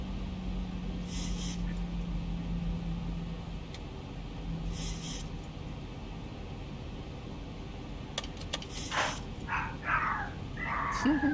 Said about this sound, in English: Sorry, Joe, I had to wait for the dogs to stop barking.